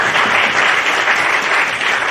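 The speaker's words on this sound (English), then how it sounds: "give yourselves a round of applause for coming out for Science Week." Loud, dense applause from a large audience at a National Science Week event, steady and sustained throughout.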